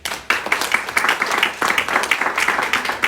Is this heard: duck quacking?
no